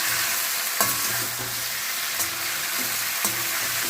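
Tomato gojju with salt added is stirred in a pan, a gentle sizzle of frying running throughout with a few distinct scraping strokes of the spoon.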